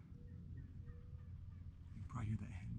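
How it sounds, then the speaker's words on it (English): A Merriam's wild turkey hen calls in the distance across northwest Nebraska, a short burst of yelps rising near the end over low ambient rumble and faint background noise. "can probably hear that hen behind me still calling"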